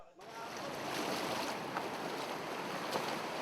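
Steady rush of sea waves and wind noise around a boat, continuous and fairly loud, with no clear voices.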